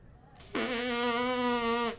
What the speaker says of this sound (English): see if you can buzz your lips without it